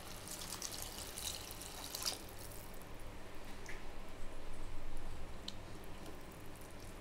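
Water poured into a pot of mushroom biryani, about 1.5 cups per cup of rice, a soft continuous splashing and trickling that swells briefly near the end, fairly quiet with no voices.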